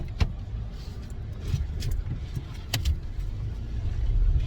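A car fitted with a Walker Quiet Flow muffler idles and moves slowly in reverse, giving a steady low rumble with a few sharp clicks and knocks over it and no talking.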